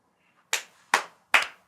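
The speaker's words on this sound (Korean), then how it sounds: "이건 진짜 박수 칠만합니다." Three sharp, separate hand claps ring out close by in a quiet room, spaced about half a second apart, marking a channel reaching 10,000 subscribers.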